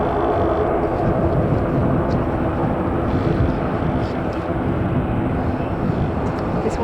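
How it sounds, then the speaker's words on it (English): Boeing 737-800 airliner departing Manchester Airport for Tenerife, a steady rumbling jet roar holding at constant loudness, with faint voices underneath. "Boeing 737-800 that's going to Tenerife"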